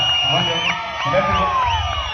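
A cheering crowd at a Kannada Rajyotsava stage show with a mimicry act, whoops and yells rising over a dense, steady roar that holds loud for the whole stretch.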